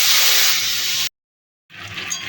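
Chunks of taro and potato hiss and sizzle loudly in hot oil with cumin seeds, a steady spray of frying noise that cuts off for a moment and then resumes.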